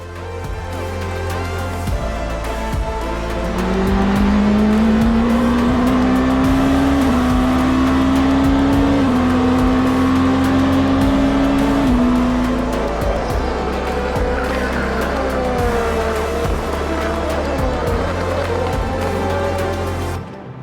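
Race cars at Silverstone during the Goodyear 4 Hours endurance race, engines roaring loud and continuous as they brake heavily into a long tight left-hander, one engine note rising steadily with tire noise over a dense field of cars.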